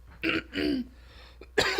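Two harsh, close coughs in quick succession, followed by a short pause and the start of a third rough cough.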